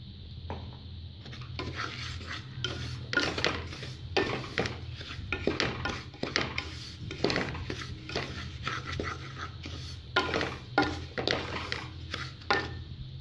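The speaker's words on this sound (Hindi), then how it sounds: "सूजी अच्छे से भून ली है मैंने बादाम और गिरी ऐड करने के बाद" Semolina roasting with almonds and coconut in a pan, stirred steadily with repeated scraping and clinking of a utensil against the metal over a low, continuous background, close and moderately loud, no talking.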